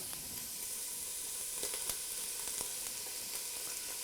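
Green pepper, added after a little celery, sizzles quietly in a frying pan for marinara sauce, a soft steady hiss with occasional light pops and stirring taps.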